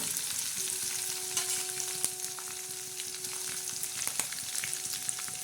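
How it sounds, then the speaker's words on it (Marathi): Garlic, cumin and curry leaves tempering in hot oil for a ridge gourd and moong dal dish, a steady bright sizzle with occasional spatter pops and a faint tone, close and continuous with no talking. "चांगला तडका देणार आहोत लसणाला जिऱ्याला आणि कढीपत्त्याला थोडंसं हालून घेणार आहोत"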